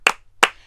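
Two sharp hand claps spaced about a third of a second apart during a grade 4 music rhythm lesson, close and crisp with silence between them.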